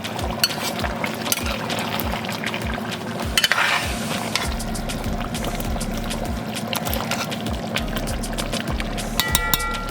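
Curry stew chicken bubbles and sizzles in a pot while a spoon stirs it, giving steady, close frying hiss with regular scraping knocks and brief liquid sloshing over ten seconds.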